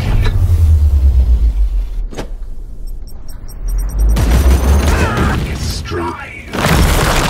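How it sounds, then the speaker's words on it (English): A grenade explosion in a Warhammer 40,000 Daemonhunters game, heard as deep booming blasts and rumble rising and falling across the clip amid game effects and voices. "Throw a grenade and disrupt their little party here."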